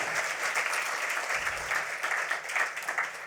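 An audience at a literary awards gala claps steadily in a sustained round of applause, a dense, fairly even patter filling the room, with no one speaking over it.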